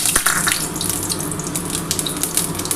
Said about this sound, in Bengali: এবার এর মধ্যে আমি গোটা জিরে ফোড়ন দিয়ে দিলাম।